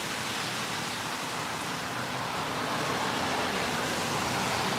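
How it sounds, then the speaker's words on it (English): Monsoon rain and wind sweep across the Arizona desert with mesquite trees, a dense continuous broadband hiss of downpour and gusts that stays loud and steady throughout. "Come on, rain, keep on coming."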